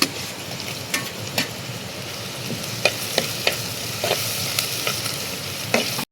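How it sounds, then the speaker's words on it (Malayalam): Tomato going into shallots, ginger and garlic frying in a pan: a steady, dense sizzle with a few sharp scrapes and taps of stirring, close and even throughout, with no talking. "അപ്പോൾ ഇതിലേക്ക് ഇനി തക്കാളി ഇട്ട് കൊടുക്കാം."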